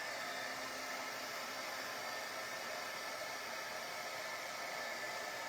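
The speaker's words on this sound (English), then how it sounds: "I'm going to get our heat tool." Heat tool blowing hot air during a jewelry-making job on gold hoops, a steady, close, unbroken whooshing roar like a hair dryer.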